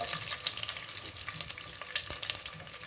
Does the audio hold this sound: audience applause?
no